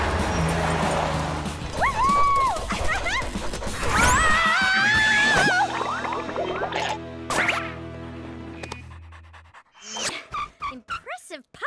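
A puppy in a kids' cartoon yips, pants and barks in short bursts amid busy animated sound effects and character voices, with a crash partway through and sparse scattered sounds near the end.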